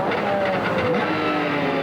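A race car brakes hard at Fontana in a 2002 IMSA Grand-Am race, its engine a steady loud roar with a falling pitch as it slows, while a commentator talks over it.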